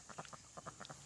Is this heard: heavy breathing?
no